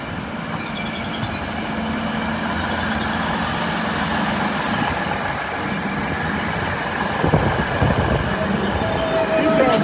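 A passenger train departs a station, rumbling steadily close by, wheels grinding and squealing faintly on the rails, growing slightly louder toward the end.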